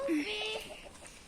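Chickens cluck and murmur nearby in a brief burst, a couple of short squawky notes over a soft background hum.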